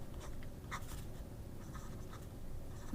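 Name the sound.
writing in a journal with a Hero 1086 pen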